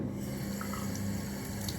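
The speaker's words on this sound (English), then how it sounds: "so wetting my hands and then wetting my nose" Tap water runs steadily into a sink while hands and a nose are wetted before applying a nose strip, a continuous close splashing flow with no talking.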